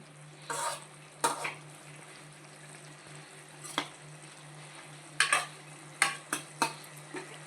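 A spoon stirs egg curry in a pan, making faint scraping and clinking strokes at an irregular pace, roughly eight in all, with a soft sizzle and low hum underneath and no voices.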